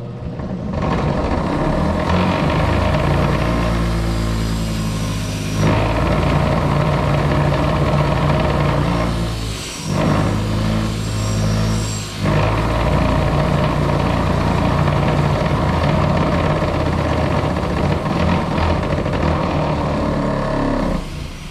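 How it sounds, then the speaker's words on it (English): A wire wheel on a power tool scrubs rust and dirt from a steel axe head around the emblems, a loud, steady whirring grind with two brief dips where the tool lets off. "I'm just gonna do part of it to show you. Like where I'm gonna wire wheel where the emblems are."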